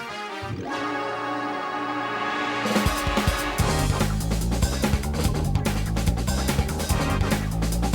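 Shimmering synth music from the special stage theme of Sonic 3D Blast begins softly with sustained tones, then a driving beat and bright melodic layers kick in around the midpoint, growing fuller and louder.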